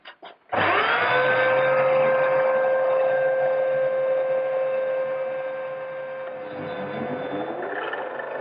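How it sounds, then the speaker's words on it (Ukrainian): A shop vacuum cleaner, hooked by hose to a homemade disc sander, switches on abruptly and runs with a loud, steady whine and hum, its pitch dipping slightly toward the end. "От бачимо, є шланг, запущу пилосос."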